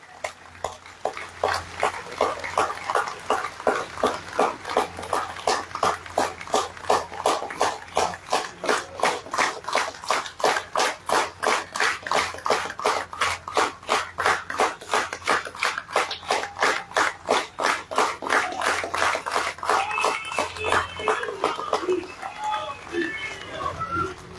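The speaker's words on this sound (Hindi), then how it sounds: "अपनी सीट पर खड़े होकर जोरदार तालियों के साथ मोदी जी का स्वागत अभिनंदन" A standing audience at a political rally welcomes Prime Minister Modi with loud, sustained rhythmic clapping that keeps a steady beat throughout, with some cheering and voices mixed into the crowd noise.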